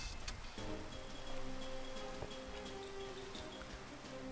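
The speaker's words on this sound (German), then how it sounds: "Und der scheiß Regen hört auch nicht auf." Steady rain hissing and pattering in the Minecraft world near water, a soft continuous wash with faint tonal hum underneath.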